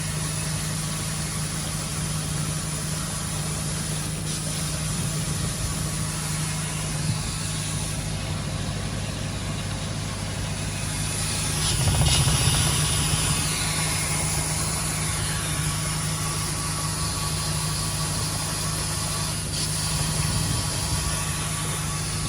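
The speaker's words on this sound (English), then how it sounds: "Pump is starting to make a slight noise as well" Burtons drum filter pump on a koi pond runs continuously with a steady mid-low hum and faint vibration, slightly noisy from six months of wear, holding an even level throughout with no voices.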